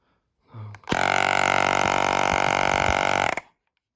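A small portable car tyre air compressor switching on after a brief click and buzz, then running with a loud, harsh, steady motor drone for about two and a half seconds before cutting off abruptly.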